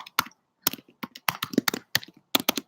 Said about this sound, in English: Of course, typical typing sounds.